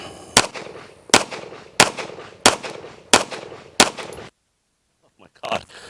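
Handgun shots at USPSA practical shooting training: six sharp, loud reports at an even, quick rhythm, then a pause and a seventh shot.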